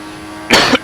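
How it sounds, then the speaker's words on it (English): A man who is ill coughs during live commentary of a Formula 1 2014 career-mode race at the Brazilian Grand Prix: two sharp, loud coughs close to the microphone, one right after the other. "So I do apologise for the coughing"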